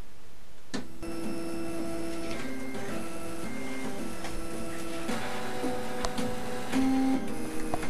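A Prusa 3D printer's Y-axis stepper motor plays a tune, its buzzy tonal notes stepping through the melody loudly and steadily, with no voices over it.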